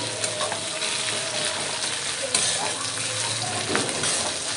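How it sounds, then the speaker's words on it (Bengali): Crushed garlic and ginger fry in hot oil in a pan for chicken singara filling, a steady close sizzle with faint stirring scrapes throughout and no talking. "থেঁতো করা রসুন, থেঁতো করা আদা দিয়ে ভালো করে ভেজে নিতে হবে।"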